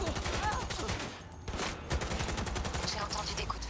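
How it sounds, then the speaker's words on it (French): Gunfire in the Cyberpunk video game: rapid bursts of loud automatic shots in quick succession, fairly close, with a brief lull midway before more firing resumes. "J'ai entendu des coups de feu."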